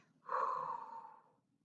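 A person demonstrating the hee-hee-hoo labor breathing technique for childbirth: a single close, breathy exhale of about one second, alone and fairly quiet.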